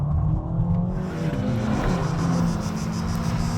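A Ferrari Amalfi Spider in comfort mode accelerates with a loud, continuous engine note whose pitch climbs steadily, heard close and with no talking.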